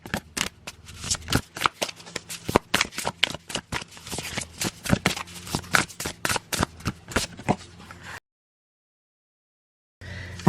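Tarot cards are shuffled by hand in quick, crisp riffling bursts with a steady rhythm for about eight seconds, then a sudden cut to silence.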